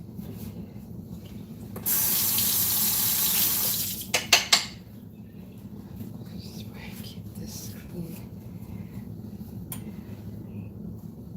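Water pours steadily from a tap into a pot of pork cracklings for about two seconds, followed by a few clanks and a low background hum.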